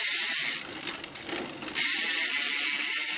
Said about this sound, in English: I'll give you a hub sound check for it.